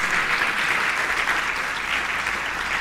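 Church congregation clapping in praise during a Spanish-language sermon, a steady, sustained wash of applause from many hands, moderately distant and even throughout.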